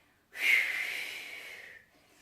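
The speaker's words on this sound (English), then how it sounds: "So here I'm breathing in and blowing." A single sharp breath blown out through the mouth during a rowing exercise, close and fairly loud, a rushing exhale lasting about a second and a half before trailing off.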